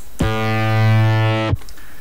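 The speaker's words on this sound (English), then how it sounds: "the first just a sine wave, sounds like this." A low, smooth sine-wave synth bass note holds steadily for just over a second, then cuts off abruptly, with nothing else around it.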